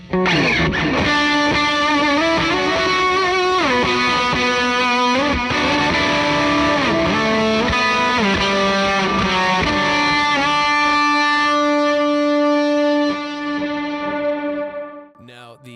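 Heavily distorted electric guitar chords through overdrive pedals ring out with bends and sliding notes, drenched in long reverb that lets the final chord wash and fade.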